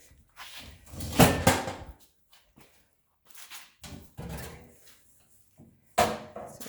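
Drawers of a Snap-on tool chest slide open and shut in a few rolling, clattering metal runs, close and fairly loud, with short pauses between.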